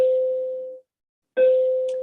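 A school bell rings in two bright electronic tones, each sustained and fading, separated by a short silence, clear and alone.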